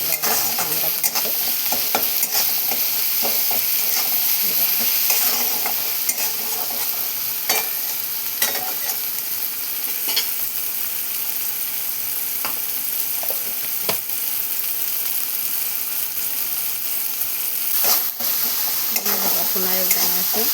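Onion and tomato frying with salt in a pan: a loud, continuous sizzle lasting throughout, punctuated by occasional clicks and scrapes of stirring.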